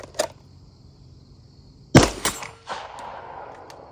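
HK pistol shots fired at a range target, a few sharp isolated cracks spaced apart, with one loud report followed by a quick second shot and ringing decay, outdoors and fairly near.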